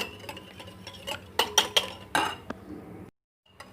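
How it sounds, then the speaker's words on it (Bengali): An egg whisked in a bowl with a utensil, giving quick clinks and scraping taps against the dish in an uneven rhythm, close and fairly soft, before a brief pause and one last tap. "ডিমটা ভালো করে ফেটিয়ে নিব।"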